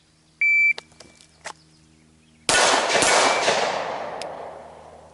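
A shot timer beeps, then pistol fire erupts during a shooting drill: a loud sharp crack with a long, reverberating tail, followed by a few fainter reports as the echo fades.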